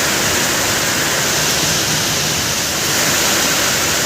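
Heavy monsoon rain pours down in a steady, dense roar, loud and close and unbroken from start to finish, with no voices over it.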